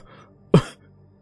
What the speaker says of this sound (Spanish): Más toses cavernosas le interrumpieron.